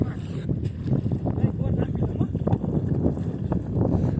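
A boat moving over the open sea off Okha, with a steady rumble of wind and splashing waves, and people talking underneath.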